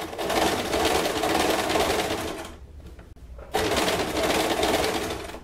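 A sewing machine stitches bias binding onto a bra cup, running in a fast continuous burst, pausing briefly for about a second, then resuming its steady buzzing rattle close by.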